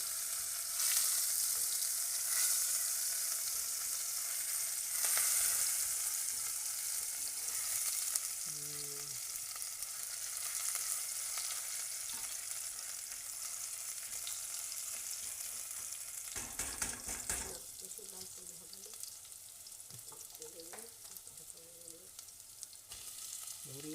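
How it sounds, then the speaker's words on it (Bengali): Chopped onion fries in hot oil in a pan for a bottle gourd dish, giving a continuous close sizzle and crackle that holds steady throughout with a few faint clinks. "তেলের মধ্যে পেঁয়াজ একটু ধরে ভেজে নেওয়া হচ্ছে"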